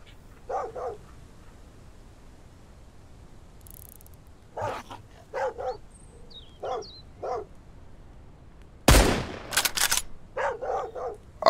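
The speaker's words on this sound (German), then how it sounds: "den einen hat Hundi gerade getötet" A dog attacks and barks in the survival video game Mist Survival, with a series of sharp, close barks in short bursts, a loud gunshot-like crack partway through, then more rapid barking.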